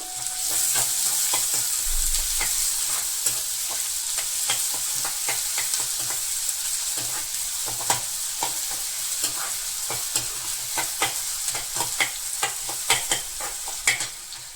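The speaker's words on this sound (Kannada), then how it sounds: "ನಂತರ ಅದಕ್ಕೆ ಕಟ್ ಮಾಡಿ ಇಟ್ಕೊಂಡಿರೋ ಈರುಳ್ಳಿ, ಹಸಿಮೆಣಸು ಮತ್ತು ಶುಂಠಿಯನ್ನ ಹಾಕಿ ಚೆನ್ನಾಗಿ ಬಾಡಿಸ್ಕೋಬೇಕು" Chopped onion, green chili and ginger sautéing in oil in a pan for besan veg cutlets, a loud continuous sizzle broken by frequent sharp scrapes of a spatula stirring against the pan.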